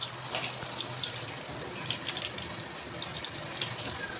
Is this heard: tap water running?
yes